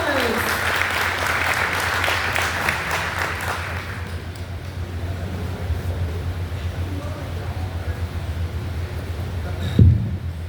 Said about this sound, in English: let's give Derek a round of applause